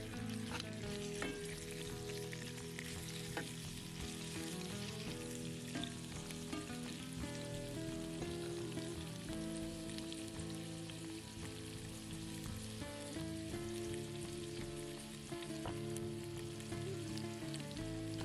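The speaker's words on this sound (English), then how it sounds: "The pieces are seasoned and browned all over in olive oil." Seasoned lamb breast pieces brown in olive oil with a dense, continuous sizzle and crackle, with occasional stirring, steady and fairly quiet throughout.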